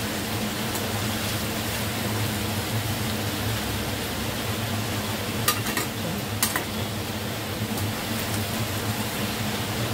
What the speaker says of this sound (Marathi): आपण मिक्स करून घेऊ भाजी